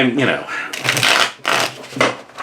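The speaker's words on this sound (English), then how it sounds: "But you can see when it's this thick, it does sometimes hang up more, which is happening over and over again." A thick tarot deck rattles through repeated shuffles that keep hanging up, giving uneven bursts of card flutter close by, with a person talking over the shuffling.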